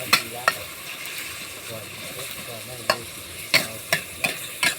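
Pork stir-fries in a pan for instant noodles with egg: a soft continuous sizzle is punctuated by sharp, irregular metal spatula clacks against the pan, loud and close.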